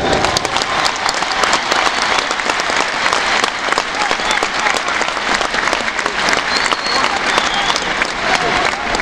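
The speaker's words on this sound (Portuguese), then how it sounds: "Peço também a todos uma salva de palmas para a Juveléu e o seu 37º aniversário." A large crowd applauds loudly and steadily at a Sporting Clube de Portugal gathering, honouring a club member's 37th anniversary, with dense clapping that fills the whole stretch and a faint murmur of voices underneath.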